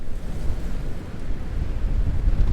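Big storm waves and strong wind at the Ocean City, Maryland seawall during flooding, a steady loud roar of surf with heavy wind buffeting the microphone throughout, no voices.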